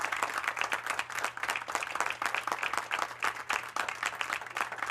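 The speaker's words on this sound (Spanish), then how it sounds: "Dale palmas al Rey" A church congregation claps together in steady, rhythmic bursts during a Spanish-language worship service. The applause is fairly loud and sustained, with a crowd-like texture and a low hum underneath.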